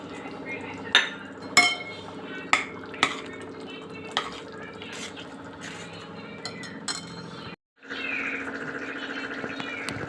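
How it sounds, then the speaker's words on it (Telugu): Spoon stirring fish masala into a fish curry in a pot, with several sharp metallic clinks against the pot early on, then softer scraping and a sizzling simmer, close and clear. "ఇప్పుడు వేసుకొని కలుపుకోవాలి"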